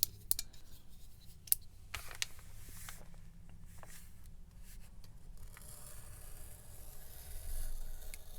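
Scissors cut down the side of a vintage junk journal page. Close, quiet snips and paper scraping come in short bursts over a faint background.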